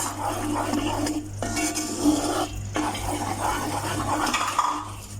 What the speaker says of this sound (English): Make sure you're cooking on a low flame. Just keep on stirring it.